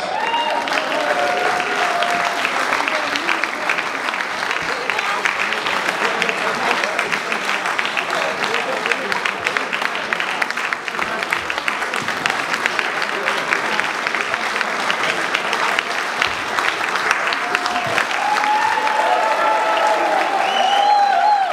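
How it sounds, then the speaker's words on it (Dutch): An audience gives long, enthusiastic applause after a shanty choir concert on Schiermonnikoog, a thick, continuous roar of clapping from a large crowd, with occasional voices and whistles rising above it. "Geef ze nog een waanzinnig applaus."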